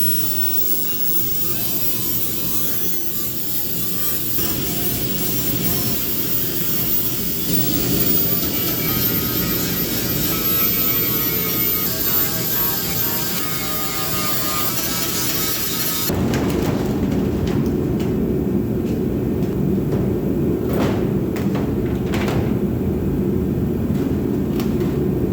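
An angle grinder works on the steel hood of a junkyard Plymouth Volare, giving a loud, continuous grinding roar that shifts in tone partway through and keeps going for the full stretch with no talk.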